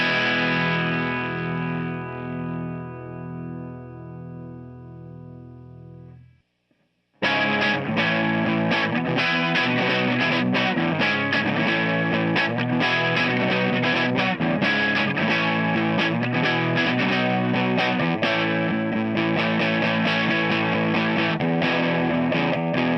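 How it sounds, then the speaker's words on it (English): A 2015 Gibson Les Paul Traditional electric guitar through the grit distortion of a Pigtronics Philosopher's Twin pedal: a clean ringing chord fades, then after a brief gap comes loud, sustained distorted playing of chords and notes. "I'm using the grit on the Pigtronics Philosopher's Twin, a little bit of extra distortion."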